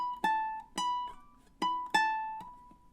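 Fingerstyle ukulele plays a bright summery melody at tempo, with five plucked notes and chord strikes ringing clearly in an uneven rhythm, close and alone.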